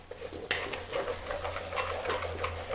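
An egg cooking in a frying pan for Cantonese fried rice gives a soft, steady sizzle, with a sharp clatter of utensil against pan near the start and light scraping and tapping sounds continuing close by throughout.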